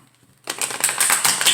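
Tarot cards shuffled by hand in a quick, continuous riffling clatter that starts abruptly after a short silence and keeps going, close and fairly loud.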